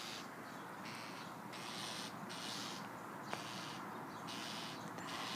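A small bird gives repeated harsh, rasping calls in regular bursts, each lasting about half a second, over steady background noise with nobody talking.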